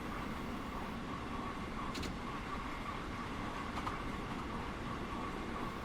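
Long Island Rail Road M3 train in a video game rolling into a station, a steady low rumble of running gear with faint clanks.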